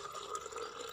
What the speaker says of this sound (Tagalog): Sulod mo lang ang tubig dre